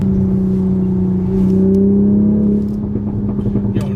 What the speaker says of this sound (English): this car sounds incredible. For being a V6, it's probably the best sounding V6